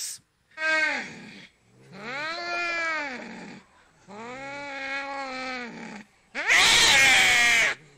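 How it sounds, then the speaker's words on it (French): A cat gives four long, drawn-out meows with short pauses between them, the last one louder and harsher, close by and clear. "j'ai retrouvé le chat de Yann Moix"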